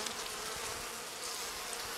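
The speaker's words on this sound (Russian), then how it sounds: "Пчелки недовольны." Honey bees buzz steadily at a hive during a late-season varroa mite treatment, a dense continuous hum of many insects close by, unbroken and alone without voices.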